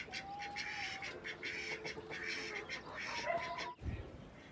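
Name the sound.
ducks quacking while eating water hyacinth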